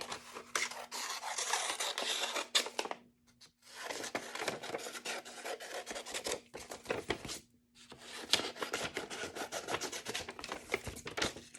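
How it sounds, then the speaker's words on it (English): Paper being cut out into a rectangle for a homemade sketchbook, heard as close, continuous scissor snipping and rasping friction in three long bursts separated by brief pauses, with no talking. "we're going to cut that rectangle out"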